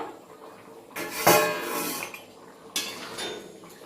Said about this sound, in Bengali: এবার ঢাকাটাকে আমি একটু আগলা করে দেবো